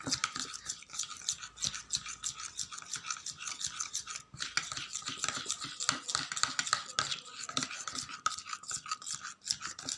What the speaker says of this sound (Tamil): மைதா மாவுலேயும் கலந்துக்கிட்டு நல்லா ப அடிச்சுக்கணும்